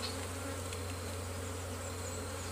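Honeybees buzz steadily at a beehive, a dense, continuous hum close by with no voices.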